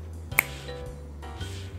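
A single sharp finger snap made to sync audio, recorded on a Boya BY-M1 lavalier microphone, crisp and close against a quiet room hum.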